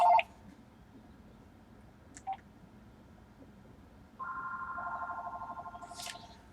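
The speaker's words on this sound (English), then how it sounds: "I'm getting a phone call" A phone rings with an incoming call, a warbling electronic tone that starts after a few faint clicks and beeps and continues to the end, heard alone and fairly quiet.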